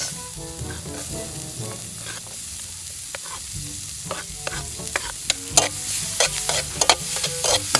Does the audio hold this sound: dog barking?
no